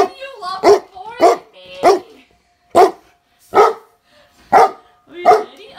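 A dog barks repeatedly, eight sharp, loud barks close by in an uneven rhythm with short pauses between them, some of them slightly whiny, and no other sound in between.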